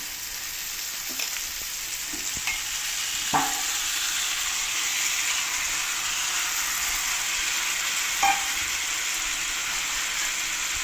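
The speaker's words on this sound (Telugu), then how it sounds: "వేసుకొని మళ్ళీ ఒకసారి ఇలాగా తిప్పుకుంటేను మొత్తం కలిసిపోతుంది" Chopped tomatoes go into a frying brinjal curry in a pan, making a loud, steady sizzle, and a couple of distinct spoon clinks stand out as the mix is stirred.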